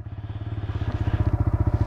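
A TVS Raider 125 motorcycle engine picks up again under throttle after an automatic stop, its single-cylinder beat pulsing steadily and growing slightly louder and faster, close up with no talking.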